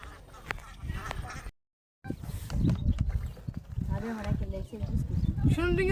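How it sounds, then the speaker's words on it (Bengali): Ducks seen on a rural field pond in Bangladesh give several faint quacks in the background while people talk over wind and outdoor noise. "ওই যে দেখেন হাঁস"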